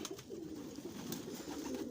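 Pigeons coo softly and repeatedly, low throaty calls overlapping nearby, with no talking.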